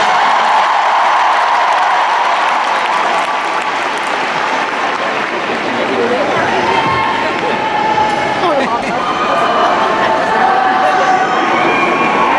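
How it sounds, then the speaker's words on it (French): Big arena concert audience applauding a pianist at a show in Paris, a sustained roar of clapping and cheering from thousands that stays loud and dense throughout. "Alors vous pouvez applaudir comme il se doit le piano."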